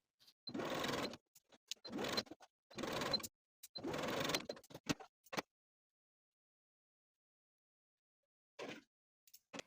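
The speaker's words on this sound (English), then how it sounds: "I'll take my darts to the sewing machine and sew from the outside to the points" A sewing machine runs in several short bursts of rapid stitching darts on a top, separated by pauses, with one last brief burst after a long silence.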